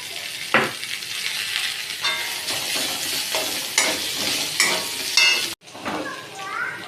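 Coarsely ground garlic and ginger paste fries loudly in a hot pan, hissing and spitting while a utensil scrapes and stirs in quick close strokes, briefly cutting off before the sizzle resumes.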